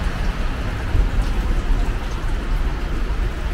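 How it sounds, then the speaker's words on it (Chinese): Steady, dense rain with a light scatter of hail pattering down in the Blue Mountains, Australia, a continuous close wash of drops with a low rumble underneath. "还不止下雨，还下一点小冰雹"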